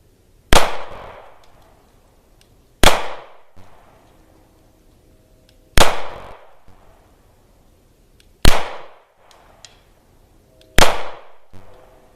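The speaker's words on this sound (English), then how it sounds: "I am firing all of these rounds from single action" A Sig Sauer P226 pistol fires 115 grain Fiocchi ball rounds in single action: five loud, sharp shots spaced a couple of seconds apart, each ringing out briefly with a faint echo before silence.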